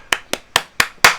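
Five sharp, isolated hand claps in a quick, even rhythm, each a crisp close-up snap with a short decay; the last clap lands noticeably louder than the others.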